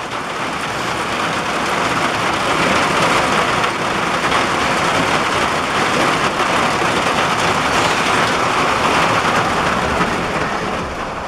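Heavy storm rain pours down steadily over a creek and Joe Pye weeds, a dense, loud, continuous hiss with no breaks and no voices.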